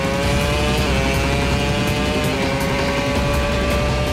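A Formula 1 car braking hard into a slow second-gear left-hander at the Abu Dhabi Grand Prix, a loud, steady engine whine that drops in pitch as it slows.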